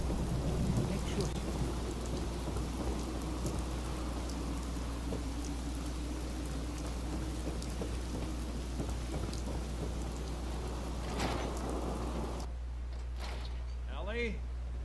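Steady rain pours with low rumbling thunder throughout a Fallout 4 game scene, a constant dense wash that drops off abruptly near the end, leaving a brief quieter tail.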